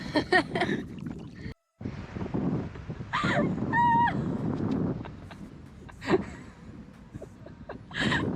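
A kayak is paddled through water off Koh Kood island, Thailand, with gurgling strokes and wind buffeting the microphone, plus brief tonal chirps and a short dropout partway through.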